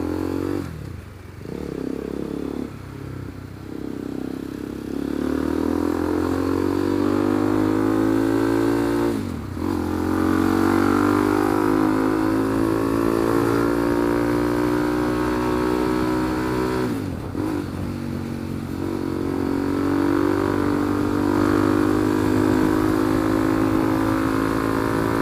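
A motorcycle engine revs up repeatedly, climbing in pitch as it accelerates, drops briefly between pulls, then rises again, loud and close with no talk.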